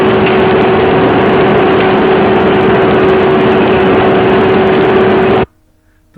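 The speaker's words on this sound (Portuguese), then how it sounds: "uma esteira que vai alimentar o material fundido contra os cilindros da calandra" An industrial calender line, with a conveyor feeding molten material against the calender rolls, runs as a loud, steady mechanical drone with a constant hum, then cuts off abruptly near the end.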